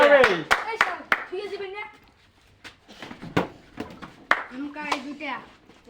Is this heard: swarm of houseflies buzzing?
no